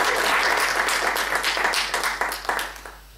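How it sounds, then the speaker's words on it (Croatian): An indoor audience applauds with dense, close clapping that stays steady and then thins out and fades near the end. "Jedan aplauz za Ivana Tešića."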